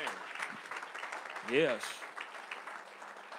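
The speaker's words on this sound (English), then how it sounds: "Give the Lord a hand clap of praise." A church congregation claps in praise of the Lord, a dense wash of hands filling the room while a voice speaks over it and others call out.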